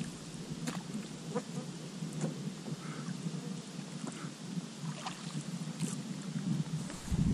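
Thunder rumbles low and continuous through a downpour on a lake during a fishing trip, with rain patter and scattered drops throughout and no talk.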